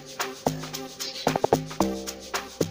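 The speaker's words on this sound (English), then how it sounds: "as you can hear the role the corrugated log drum plays" Corrugated log drum in an amapiano beat built in FL Studio Mobile, with short punchy low pitched hits in a syncopated pattern over steady percussion, loud and close with no voice.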